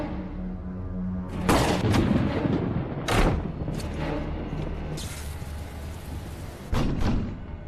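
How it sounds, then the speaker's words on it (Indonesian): Gunfire in an action film scene, with a bullet flying close past a person: several loud sharp cracks and bursts in quick succession over a dense, rumbling action-scene background, with no speech. "Tapi tiba-tiba peluru pun melesat tepat di sebelah Buddy."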